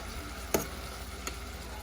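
Butter melts in a seafood boil sauce with a soft, low sizzle and gentle bubbling, broken by a sharp click just past the half and a fainter tap later.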